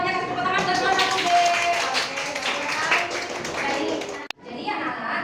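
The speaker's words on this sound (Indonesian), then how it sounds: "kasih tepuk tangan buat kelas 1B" Schoolchildren in class 1B clap together in a classroom, a busy patter of small hands mixed with children's voices, stopping abruptly with a thump before talk resumes.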